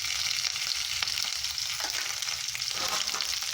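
Ginger paste and cumin paste fry in hot oil with fried potatoes for a Bengali fish curry, a loud steady sizzle close up with light stirring.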